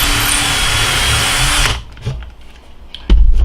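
A power drill drives screws into a shop-made jig for cabinet knobs, whirring loudly and steadily for nearly two seconds before cutting off, then a couple of faint clicks and a brief louder burst near the end.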